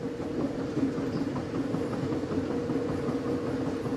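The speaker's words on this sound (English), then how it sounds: "The train crawls up a seemingly endless series of switchback curves, weaving around and through sandstone formations called hogbacks and flatirons" A train climbs switchback curves through the Rocky Mountains, a continuous low rumble of wheels and rails with faint rhythmic clatter, steady and moderately loud throughout.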